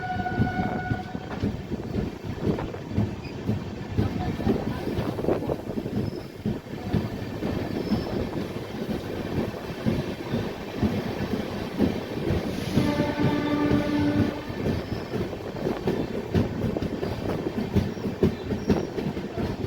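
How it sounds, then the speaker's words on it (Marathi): Deccan Queen Express running at speed near Khandala, a continuous rolling rumble with clickety-clack wheel beats and a drawn-out horn sounding midway, heard from aboard at moderate loudness. "आपली डेक्कन क्वीन एक्सप्रेस जी आहे ती काय जबरदस्त स्पीडमध्ये चालत आहे"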